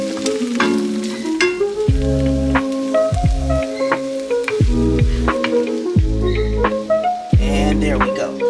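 A spatula stirs and scrapes eggs scrambling in a frying pan on a cooling burner, soft sizzling under regular clinks and scrapes, close by, with intermittent speech over it.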